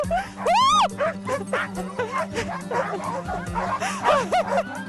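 Excited sled dogs bark, yip and whine together on a dog-sledding tour, a dense, close chorus of overlapping high-pitched yelps that keeps going without a break.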